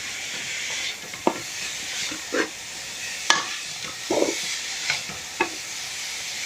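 Chicken fried rice is stirred in a kadhai over a steady sizzle, with scattered spatula clinks and scrapes at uneven intervals, close, with no talking.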